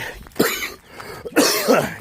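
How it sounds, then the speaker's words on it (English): Two harsh, raspy coughs close to the microphone, separated by a brief pause, with no talking. "cough and hack yet another day"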